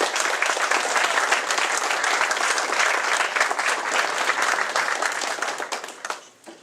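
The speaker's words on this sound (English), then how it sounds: "Give her a round of applause." An audience at a university psychology department awards banquet gives a sustained round of applause, dense and steady clapping from a roomful of people that fades out at the end.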